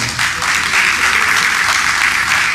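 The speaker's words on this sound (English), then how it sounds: "Please celebrate him with a round of applause" Loud, steady applause from a crowd at a ribbon cutting ceremony, greeting the board president with continuous clapping that holds at full strength throughout.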